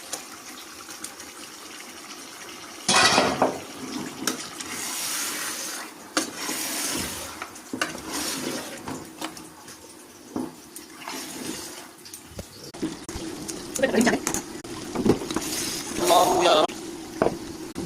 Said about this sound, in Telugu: ఇది కొబ్బరి పాలు వేస్తున్నాను అన్నమాట